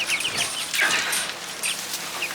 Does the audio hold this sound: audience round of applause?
no